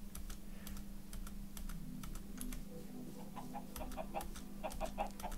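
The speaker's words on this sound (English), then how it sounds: "Wow, we have so many chickens." Chickens cluck softly in Minecraft, scattered short clucks in the background nearly masked by close, steady computer keyboard typing and a low hum.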